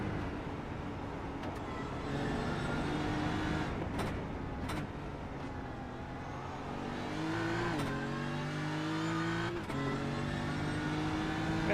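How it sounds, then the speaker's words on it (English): BMW GT3 race car in the iRacing simulator, a steady loud engine drone revving up and down through gear changes, with other cars' engines layered around it. "That BMW just sounds so quiet."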